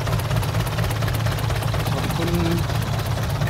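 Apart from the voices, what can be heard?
six-wheel dump truck engine pulling stuck tractor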